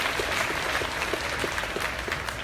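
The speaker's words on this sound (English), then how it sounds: "Please give Sierra a big round of applause." Applause from the audience at a livestock show, a dense, steady wash of clapping filling a large arena with no pauses.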